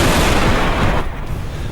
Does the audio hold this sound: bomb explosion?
yes